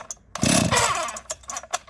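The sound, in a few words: vintage Stihl 031 AV chainsaw starting and running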